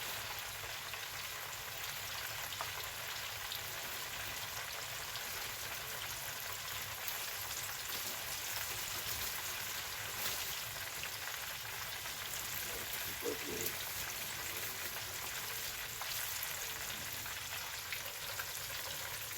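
Catfish frying in oil in a pot gives off a steady, dense sizzle and crackle from start to finish, holding an even level with no voices over it.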